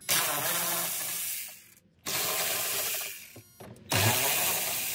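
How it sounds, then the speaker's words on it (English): A Torx T20 driver turns screws out of the trim panel around the gauge cluster of a 1995 Ford F150, making three close bursts of quick ratcheting clicks separated by short pauses. "you have the option of using a traditional socket, or you can use a Torx. And just for reference, it's a T20 that I have on there"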